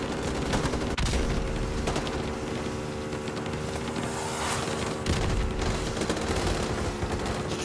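Rapid gunfire in the survival game Rust, loud overlapping shots and booms filling the whole stretch without pause.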